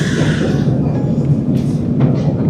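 Loud, steady rumble of a metro train in motion, with continuous low-frequency rolling noise and faint hiss, no talking.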